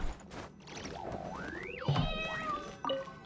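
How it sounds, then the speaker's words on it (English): Cat meowing in Genshin Impact: several drawn-out, pitch-sliding meows rising and falling one after another, fairly close and clear, with a brief thump partway through and no talking. "I can hear the cat's cries a bit clearly now"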